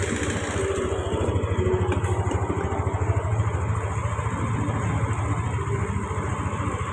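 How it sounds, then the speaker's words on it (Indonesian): A Yamaha Lexi scooter engine idling steadily after starting, a close, even, rapid putter that holds at a constant level without a break and with no talking over it. "Kita nyalakan motor ya."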